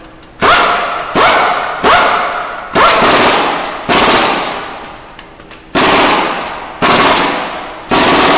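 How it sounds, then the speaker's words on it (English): An impact wrench fitted with a torque stick tightens lug nuts on a Jeep Liberty, firing in seven short, loud rattling bursts with brief pauses between them, close up and with no talk. "Using a torque stick to just tighten them up"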